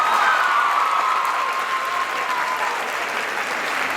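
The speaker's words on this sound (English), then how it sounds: "Please, can we have a round of applause for our panelists?" A school assembly crowd applauds the panelists at an antibullying event, a thick continuous wash of clapping from a large room, with a faint whistle-like tone gliding through the first half.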